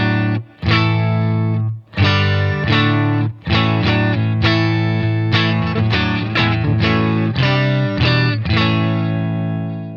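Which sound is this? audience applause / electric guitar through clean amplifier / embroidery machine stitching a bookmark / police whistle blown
electric guitar through clean amplifier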